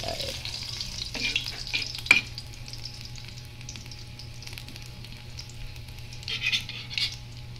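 Food being stirred in a hot pan, with a steady sizzle and a few scraping, clinking utensil strokes early on and again near the end, fairly quiet with no talking.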